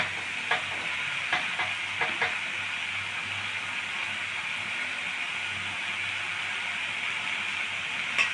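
Piring greens fry in a pan as the last of their water cooks off, giving a continuous close sizzle with a few sharp clicks of stirring.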